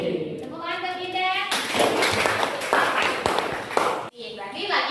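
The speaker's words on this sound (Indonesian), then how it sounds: "Tepuk tangan buat Dinda." A classroom group claps for a pupil named Dinda in an Indonesian lesson, a dense burst of applause lasting a few seconds between stretches of speech.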